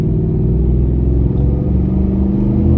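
A vehicle fitted with a Magnaflow Overland Series exhaust and running 33-inch Cooper ST Maxx tires idles with a loud, steady, deep exhaust rumble that holds evenly throughout.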